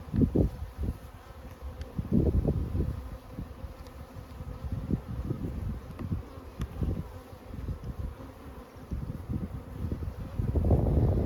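Honeybees buzz around a hive during a honey harvest at a mountain plateau apiary, a dense droning hum with bursts of louder buzzing close to the microphone and some wind noise.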